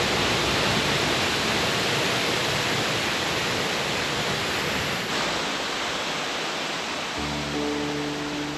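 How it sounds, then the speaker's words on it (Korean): Steady, dense roar of a waterfall about 18 m high plunging into a pool in a river gorge, loud and continuous, with a low tonal hum joining near the end. "제인 폭포는 지장봉에서 흘러내리는 계곡물이 높이 약 18m 폭포수가 되어 너비 30m, 길이 100m의 소 위로 떨어지는데"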